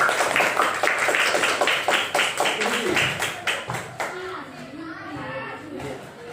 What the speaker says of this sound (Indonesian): tepuk tangan untuk Gigi